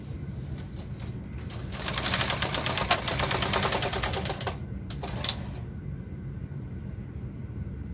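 A KH 230 knitting machine carriage rattles across rows of back stitch, a dense clattering run building in the middle then breaking into a few sharp clacks before fading to a quiet background hum.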